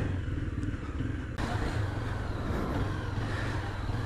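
Motorcycle engine running steadily while the rider parks at a market, a rough, continuous broadband rumble that jumps slightly louder partway through and stays close and loud throughout.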